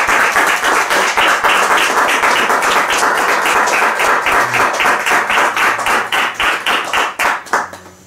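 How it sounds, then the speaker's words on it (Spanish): Loud, close applause from a lecture audience thanking a speaker at the Centro Piper, dense rhythmic clapping that holds steady before thinning into a few scattered claps and fading out. "Le damos un fuerte aplauso."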